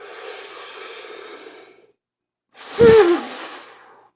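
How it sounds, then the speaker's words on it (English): Trumpet player breathing in deeply from the diaphragm, then after a pause blowing a strong rush of air, both loud and breathy, heard alone without talking. "If I blow a tremendous amount of air, breathing from my diaphragm, let's take that correct breath, stomach out."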